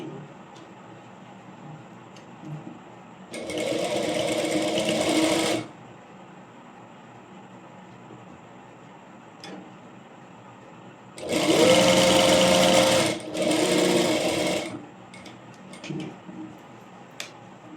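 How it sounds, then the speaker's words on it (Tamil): A sewing machine top stitches small pleats on a plain frock, running in two clear bursts of steady whirring, the second split by a short pause, with quiet room tone between. "குட்டியாக ப்ளீட் மாதிரி நான் டாப் ஸ்டிச் கொடுத்துக்கிறேன்"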